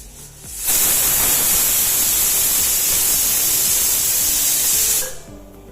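A pressure cooker releases steam in a loud, steady jet of hiss that starts abruptly, holds at full strength for several seconds, then cuts off, with quieter kitchen sounds before and after and no speech.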